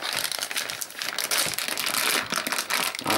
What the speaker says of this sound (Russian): Пакет у нас открывается.